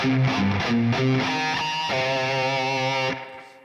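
Distorted electric guitar riff, palm-muted downstrokes with pinch harmonics, played alone as a few chugging chords before ringing out and fading.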